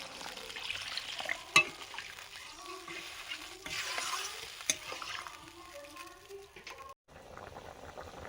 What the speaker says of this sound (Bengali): কয়েকবার নাড়াচাড়া করে জল দিয়ে দিলাম।